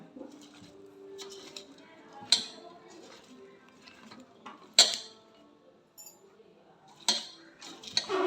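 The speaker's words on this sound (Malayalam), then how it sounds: "വെളിച്ചെണ്ണ ഒഴിച്ചു കൊടുത്ത് നല്ലോണം ഇളക്കി കൊടുക്കാം" A metal spoon stirring food in a pot with coconut oil, giving irregular clinks and scrapes, several sharp knocks against the pot spaced a few seconds apart, fairly close and otherwise quiet.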